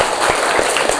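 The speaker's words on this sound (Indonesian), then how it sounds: "Tepuk tangan untuk kita semua." A group of students claps together in a classroom lesson, a brief loud burst of dense clapping with a few stronger hits standing out.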